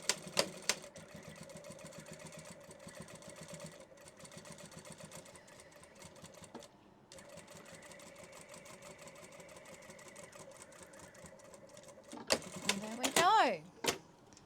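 A sewing machine stitches a seam on a tetrahedron carry-all, its rapid mechanical chatter running in steady bursts with short pauses, fairly quiet and close, with a brief louder clatter near the end.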